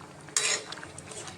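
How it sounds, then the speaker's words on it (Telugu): Egg curry with four or five eggs being stirred gently in a pan: one brief scraping clatter of a utensil against the pan, then a quiet background murmur. "ఇలాగా మెల్లిగా కదపాలి"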